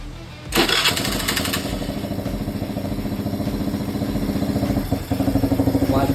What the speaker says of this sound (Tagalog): One click start.